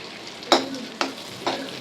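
Close, soft sizzling of cloves, cinnamon and fennel seeds frying in melted butter, with three sharper stirring scrapes spaced about half a second apart.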